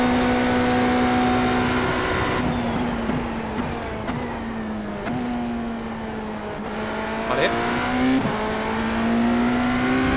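GT3 race cars in a racing video game at the 24 Hours of Daytona roar and rev loudly, steady engine tones sweeping in pitch as cars pass and shift, with brief tire squeal and no talk.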